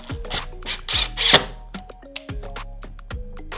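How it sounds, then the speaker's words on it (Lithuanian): A screw being fitted and tightened by hand into a window handle during a DIY replacement, heard as short scraping clicks and rattles of metal on plastic, fairly close and irregular, with brief pauses between turns. "ją įstatom ir prispaudžiam pirmą varžtą"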